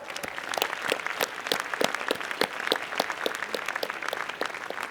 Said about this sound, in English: let's give one more round of applause for our winners and for all the